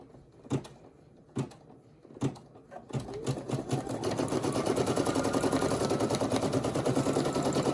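A Brother SE1900 embroidery machine sews a placement stitch for a heart appliqué, starting with a few separate loud clunks and then settling into a steady, fast, rhythmic whir of stitching up close.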